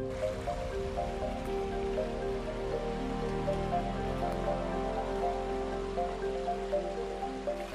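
A clear forest stream flows on steadily, a continuous close babble and trickle of water with small splashing drops, even in loudness throughout and with no voices.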